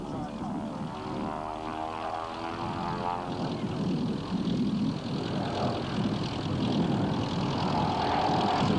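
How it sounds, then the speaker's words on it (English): A propeller aircraft makes a high-speed pass at a 1984 air show in Masterton, New Zealand, under heavy overcast, its steady droning roar swelling slightly louder toward the end, with a voice speaking over it. "A nice high-speed pass."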